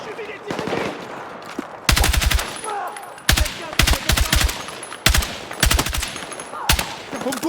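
Rapid bursts of automatic gunfire in the video game Battlefield 6, loud and close, coming in repeated salvos separated by short pauses over a busy battle-ambience background.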